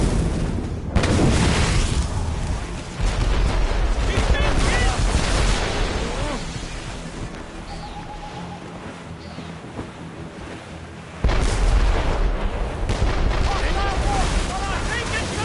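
Cannon fire from sailing warships in Assassin's Creed Rogue, with deep booming blasts rising above rushing wind and crashing waves at sea, while crew voices shout over the surf.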